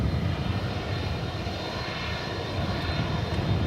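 An American Airlines Airbus A321neo arriving at DFW Airport from Atlanta makes a steady, broad jet roar with a faint high whine. The sound holds at a constant level throughout, with no voices.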